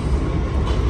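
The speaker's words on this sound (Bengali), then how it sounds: "আমাদের ট্রেন এসে গেছে।" A New York subway train arrives at the 111th Street station with a loud, steady rumble of wheels and carriages close by, with no talking.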